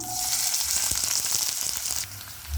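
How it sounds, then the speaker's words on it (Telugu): Chopped onions and curry leaves hit about three tablespoons of hot oil for a ridge gourd curry, giving a loud, close, continuous sizzle with scattered crackling pops that fades slightly near the end. "ఈ ఆయిల్లోకి మనం కట్ చేసుకొని పెట్టుకున్న ఉల్లిపాయలు, కరివేపాకు వేసుకుందాం"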